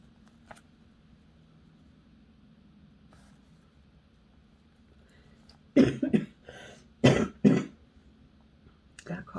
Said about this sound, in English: That cough had gone away somewhat.